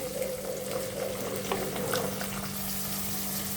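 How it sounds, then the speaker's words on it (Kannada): Chopped onion dropped into heated oil for an aloo batani masala gravy, giving a steady, continuous sizzle and bubbling hiss that holds evenly throughout at moderate level, with no talking. "ಎಣ್ಣೆ ಕಾದಿದೆ, ಅದಕ್ಕೆ ಈರುಳ್ಳಿ ಹಾಕ್ತೀನಿ"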